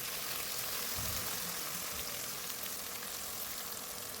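Onions sautéing in oil in a pan for prawn gravy, a soft continuous sizzle and crackle at low level with a brief louder stir near the start, no voices.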